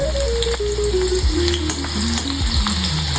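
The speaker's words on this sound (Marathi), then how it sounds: "लसूण छान गोल्डन ब्राऊन होईपर्यंत आपण त्याला फ्राय करून घ्यायचं" Crushed garlic cloves frying in two spoons of hot oil in a kadhai, a loud close continuous sizzle with crackles, under a wavering tonal hum and a few low thumps.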